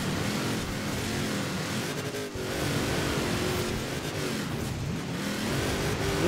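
GMC Typhoon engine in Forza Horizon 4, driven hard with continuous loud revving that climbs and falls through gear changes, a brief dip midway, no voices over it.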